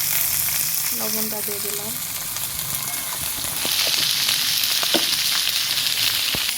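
Green beans (borboti) frying in a hot pan while a vegetable curry is cooked, giving a steady, close sizzle throughout with brief clinks and a voice speaking over it.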